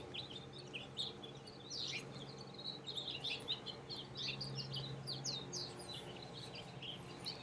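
Several birds twitter continuously with quick high-pitched calls in a gated residential area of Las Vegas, fairly near, over a faint steady background rumble.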